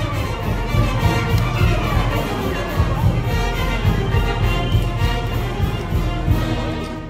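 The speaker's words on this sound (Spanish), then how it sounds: "¡Venga, echar un aplauso!" Crowd applauding and cheering at a traditional ranchero jaripeo with fighting bulls in San Miguel Ragui, a steady, dense wash of clapping and voices filling the whole stretch at moderate loudness.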